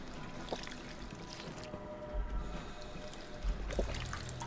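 Water being drunk in Fallout 4, a few soft pouring and trickling gulps in short bursts over a low steady game ambience, moderately close and fairly quiet, no talk.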